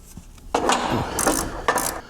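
A wrench turns the 18 mm tow loop bolts on a Jeep JK Rubicon, making close, gritty ratcheting and scraping strokes in a few short bursts with light metallic clicks.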